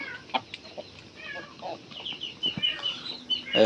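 Village chickens, with ducks nearby, cluck in short scattered calls while pecking at scattered rice on a morning farmyard, with a few brief wing flaps and rustles at close range and no talking.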